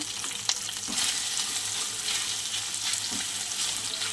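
Green chillies frying in a pan for a taro dish crackle and sizzle steadily up close, with occasional stirring scrapes and small pops.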